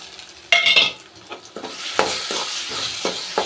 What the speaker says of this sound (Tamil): பெருங்காயத்தூள் சேர்த்த உடனே இப்போ அரைச்சி வச்சா அந்த விழுதை சேர்த்துக்கலாம்.